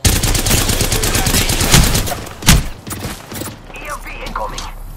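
Rapid automatic gunfire in the video game Apex Legends, loud and close, a sustained burst of fast repeated shots with a heavy blast midway, then tapering into scattered mechanical clicks and thuds.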